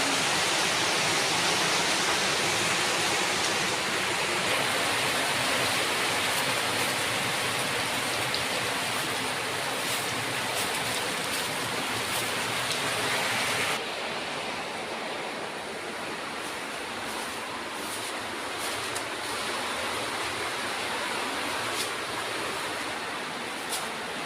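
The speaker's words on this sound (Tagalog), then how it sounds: "Grabe, lakas ng ulan." Dense, steady heavy rain pours continuously, a loud broadband hiss of water hitting surfaces, easing slightly partway through but never stopping.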